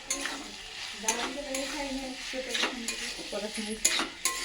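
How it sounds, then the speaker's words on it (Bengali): Snails and fried potatoes turned in a thick spiced masala gravy in a pan: repeated spatula scrapes and clinks over a soft, steady sizzle, close by. "আলু আর গ্রেভিটাকে দিয়ে ভালো করে কষিয়ে নেবো"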